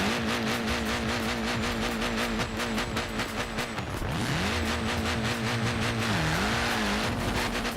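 Car engine revving hard in Forza Horizon 4 during reverse wheelies, a loud droning roar that dips and climbs in pitch as the car lifts and lands, with tire noise underneath and no talk.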